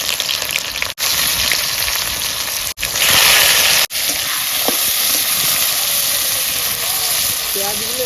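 Onions sizzle and crackle in hot mustard oil with cumin and peppercorns in a kadai, a steady close frying hiss broken by a few brief dropouts, with faint stirring scrapes toward the end.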